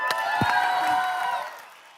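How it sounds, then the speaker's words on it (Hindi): Studio audience on a Hindi entertainment game show cheering and whooping with some clapping, a bright sustained crowd cry with a few sharp claps that fades away toward the end. "जोरदार तालियां"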